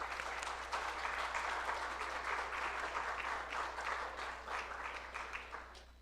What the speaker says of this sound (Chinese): 来，我们拍手欢迎。